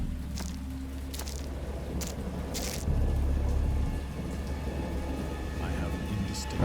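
Thunderstorm with rain in the video game Dagon: a steady hiss of rainfall over a low rumbling bed, with a swell of heavier rumble midway and scattered crackles, fairly loud and continuous.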